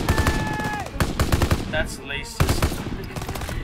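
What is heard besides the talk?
gunfire in a gunfight in CoD: WW2 video game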